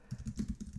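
Quiet, rapid key taps on a computer keyboard come in a quick, fairly even run of soft clicks, close by and alone.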